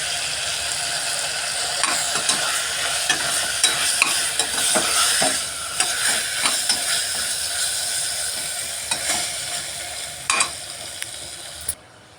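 Chicken with tomato, salt and masala frying in a pan while being stirred, giving a steady close sizzle broken by repeated scraping and clacking strokes from the spoon throughout.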